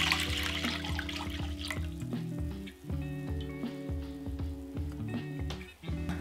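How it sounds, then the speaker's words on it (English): Dashi broth is poured back into a pan, making a steady watery splash and hiss close by, with gentle music in the background. "Pour your dashi back into the pan."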